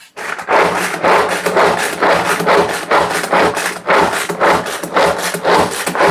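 Onions chopped in a manual pull-cord chopper, a fast, steady run of loud rasping whirs close by, repeated many times without pause.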